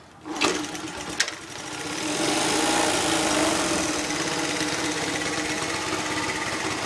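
A barn-find 1981 Honda C70 Passport motorcycle, its carburetor cleaned, stuck float freed and fresh gas added, settles into a quiet, steady idle after a couple of sharp clicks, running alone with no talk.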